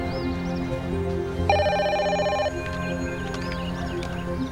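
A telephone indoors rings with a single bright, electronic trill lasting about a second, loud and clear over a quiet, humming room.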